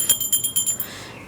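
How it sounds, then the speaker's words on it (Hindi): A small brass puja hand bell rings with quick, repeated bright strokes, about six in a row, then fades into a short shimmering decay, close and clear at a Til Chauth worship. "और घंटी बजा देंगे हम।"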